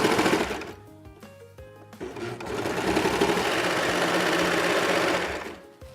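A serger sews the hem of a pair of leggings. The machine whirs in a short, stuttering burst, pauses briefly, then runs in one long, steady loud stretch before slowing to a stop.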